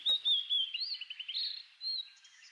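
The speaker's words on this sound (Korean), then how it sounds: "이 벌매는 그 나그네 새들 중 극히 일부일 것입니다." A honey buzzard gives thin, high whistling calls, a few drawn-out wavering notes with brief pauses between them, clear and fairly close against otherwise quiet surroundings.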